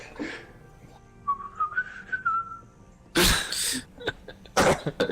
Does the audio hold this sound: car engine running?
no